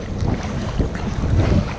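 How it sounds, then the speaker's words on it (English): Steady northwesterly wind over Elliott Bay on Puget Sound, a loud, constant rushing buffet with low gusty rumble across the microphone and faint water beneath, no voices. "today we have a northwesterly wind"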